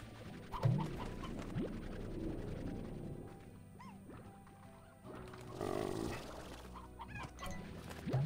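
Hens in the game Slime Rancher cluck in short, scattered bursts, some near and some farther off, over a quiet bed of ambient game sound.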